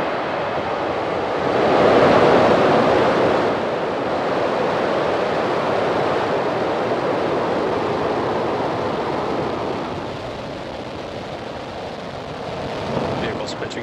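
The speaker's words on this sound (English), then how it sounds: "Ignition and liftoff." A SpaceX Falcon 9 rocket ignites and lifts off with a broad, distant rushing roar that swells, then holds steady and slowly fades. A voice speaks over the start.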